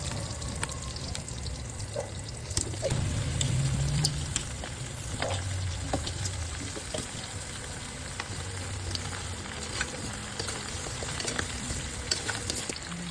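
Garlic and onion sizzle and fry continuously in a pan with occasional scrapes and stirring clinks, steady and close throughout.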